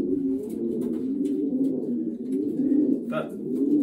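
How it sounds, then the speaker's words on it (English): Racing pigeons murmur and coo steadily at close range inside a loft during basketing for a race, a continuous low warbling bed with brief higher chirps near the end. "This is another smaller bodied pigeon."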